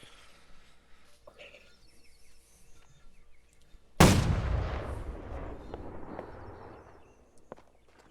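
In the Holdfast multiplayer game, a single loud cannon blast booms out midway and rolls into a long, fading rumble. Quiet background game noise and faint voices come before the shot.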